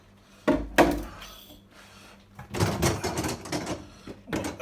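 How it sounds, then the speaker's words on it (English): Plastic fridge drawers knock and rattle as they are lifted and pulled out, a couple of sharp clunks followed by a run of scraping clatter. "lift these drawers up"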